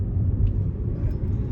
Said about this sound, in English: We're in the car, heading off